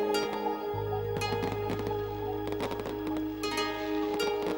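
Firecrackers bursting outdoors in rapid irregular clusters of sharp cracks and pops, some close and loud, others trailing off, over a steady low droning background with no talking.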